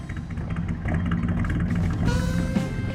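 A classic Chevy Stepside truck's engine runs steadily at close range, a low rumbling drone with a continuous broadband texture and no pauses.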